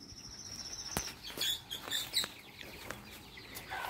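Chickens in a hen cage set among dense trees give faint, scattered clucks and short calls over quiet background hiss.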